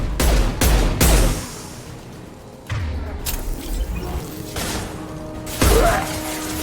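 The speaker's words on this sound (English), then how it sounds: "Firing an impact shot." An impact shot fires in a video game: several loud, sharp bursts with crashing, shattering tails ring out, spaced apart over a low background rumble.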